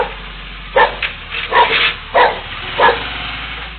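A dog resting outdoors gives several short, muffled barks and yips in an uneven sequence, captured on a low-fidelity, thin-sounding recording with a faint steady hum underneath.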